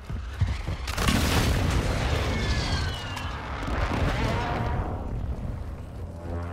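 Airstrike explosions in Warzone 2.0 erupt as a loud, sustained barrage of booming blasts and rumbling debris that lasts several seconds, with no talk over it.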